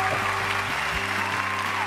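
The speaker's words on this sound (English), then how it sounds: "And a big round of applause" Applause at the close of a beetroot painting session with artist Andrew Geeson, a continuous wash of clapping under steady tonal background sound, fairly loud throughout its two seconds.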